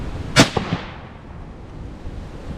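A single sharp 25 Creedmoor rifle shot cracks loudly outdoors, followed by a couple of quick echoes and a fading rumble.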